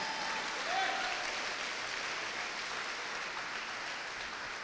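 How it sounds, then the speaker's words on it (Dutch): Steady, faint applause from an audience at a church sermon, a soft even wash of clapping with no breaks that carries on for several seconds. "Kunnen we hem daarvoor een applaus geven?"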